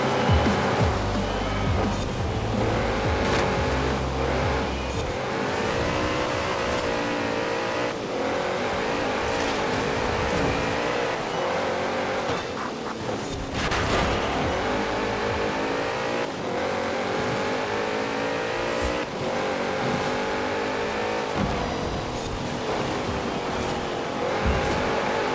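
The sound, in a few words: Porsche 928 GTS racing other cars in video game Forza Horizon 4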